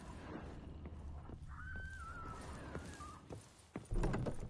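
A horse in The Witcher video game on PS5 gives a drawn-out whinny over a rumbling ambient background, followed by a few heavy thuds and hoofbeats near the end.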